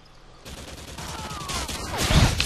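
Sniper rifle fire in the video game Modern Warfare 2: sharp in-game shots and a cluttered battle mix that grow louder over a couple of seconds, ending in a heavy blast.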